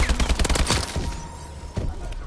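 Shotgun fire in a video game: a burst of several loud, rapid blasts in the first second, then a quieter pause and one more blast near the end.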